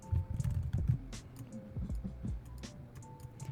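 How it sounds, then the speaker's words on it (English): Someone types on a computer keyboard in quick bursts of soft, close clicks with short pauses between them. The clip is quiet, with no speech. "And now type in the first section."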